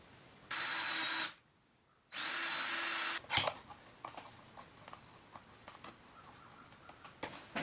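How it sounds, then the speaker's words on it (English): A DeWalt power drill boring hook holes in wood whines in two bursts of about a second each, separated by a short pause, followed by clicks, taps and handling noise. "When drilling for a hook on the opposite side of the hook that you just put in"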